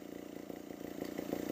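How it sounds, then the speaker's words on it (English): A stationary motorcycle engine revs in a steady rapid pulsing throb that slowly gets louder, heard at low level without talk. "Let's just really rev this thing up and commit."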